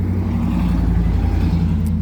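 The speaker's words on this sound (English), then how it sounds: "Sorry about the road noise." Steady road rumble from a car driving, a dense low drone with constant engine and tire noise throughout and no talking over it.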